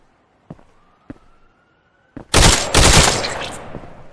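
Rifle gunfire in a VR tactical shooter video game: a few sharp, isolated clicks or shots early on, then a loud burst of rapid automatic fire with echoing tails, near and dominant.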